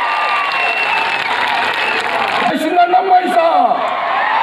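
A crowd at a political rally applauding in welcome, a steady wash of clapping and cheering kept up throughout, with a loud voice speaking over it through a sound system.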